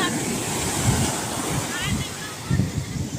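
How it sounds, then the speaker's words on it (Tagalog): Sea waves surge around a small fishing boat, a windy, rushing wash with swells rising and falling, loud and close with buffeting wind on the microphone. "Nilalaki po ng alon."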